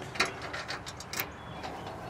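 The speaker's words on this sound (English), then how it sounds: "So we unlock our hood up front here" Key turning in the front hood latch of a Sany SY35U 3-ton mini excavator, a few small metallic clicks and ratcheting ticks, close and fairly quiet.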